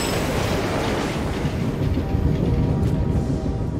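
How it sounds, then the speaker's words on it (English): A train rumbles past in Assassin's Creed Unity, a loud, continuous low roar and rattle that stays close and steady throughout. "Look at the train."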